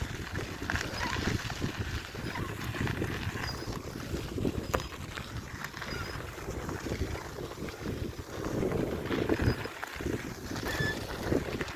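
Steady wind roars across the microphone with rushing noise outdoors, continuous and loud throughout, with faint water movement underneath.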